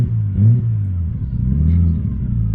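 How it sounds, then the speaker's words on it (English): Rotary engine of a Mazda RX7 FD on high-lift cams, smoking heavily, revving in a steady mid-pitched drone with a couple of rises and falls, close and loud throughout. "Once you give it a few revs for a bit, it gets better like this."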